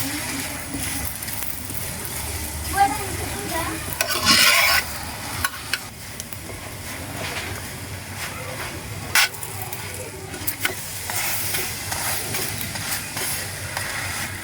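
A roti-like flatbread fries in oil with a steady sizzle close by, mixed with repeated scraping and stirring clatter and a few sharper knocks. Brief faint voices sit in the background.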